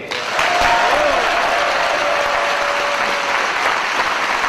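A large crowd at a political rally in Bazas claps loudly and continuously, with cheers and whistles rising through the dense applause in a big hall.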